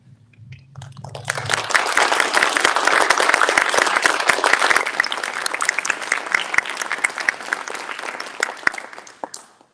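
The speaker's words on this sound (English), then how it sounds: "much of that applause, I would say, really goes to Olivia and Adam" Audience applause closing a public discussion event, clapping swelling in after a brief murmur, rising to a full dense roar in the middle and then tapering off toward the end.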